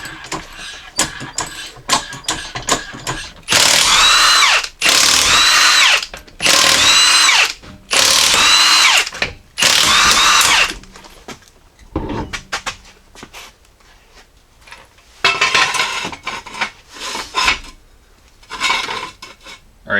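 An impact tool or power drill works on the rear wheel of a 2016-2021 Jeep Grand Cherokee in a garage, loud bursts of a few seconds each separated by quieter gaps, with metallic clinks between the runs.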